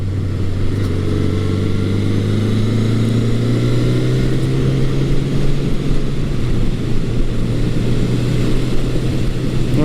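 A 1980 Honda CB900 Custom motorcycle cruising in high range with its dual-range gearbox, the engine droning steadily and loudly close by, its pitch rising and settling as it rides on.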